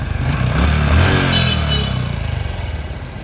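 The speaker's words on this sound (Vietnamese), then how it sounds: "mình nghe cho bạn nghe tiếng động cơ và tiếng nồi" A motorcycle engine runs at idle with its clutch housing audible, giving a close, loud, steady mechanical chug and rattle that swells slightly and then settles into an even rhythmic throb.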